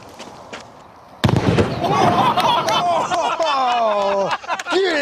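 A plastic bottle of dry ice inside a cake bursts with a sudden loud bang outdoors, followed by debris clatter and excited shouting voices.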